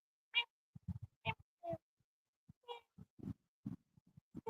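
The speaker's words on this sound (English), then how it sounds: "It's a nice cat. I think you heard him." A cat meows several times in short, separate calls close to the microphone, with quiet gaps between them and no talking.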